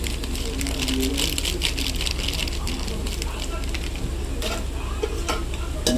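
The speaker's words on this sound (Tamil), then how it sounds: "எண்ணெயில் போட்டு நல்லா வதக்கினதுக்கப்புறம் இதை வதக்கணும்" Spice powders, including chilli, coriander, turmeric and sambar powder, sautéing in hot oil for a Tamil fish curry, giving a steady close sizzle with stirring scrapes throughout, and a voice talking over it.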